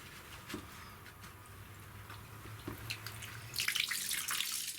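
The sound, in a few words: cold water flowing from rain harvesting setup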